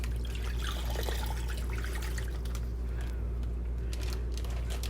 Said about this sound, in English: now we're going to add to our liquid, our brandy mix. We're going to add that in.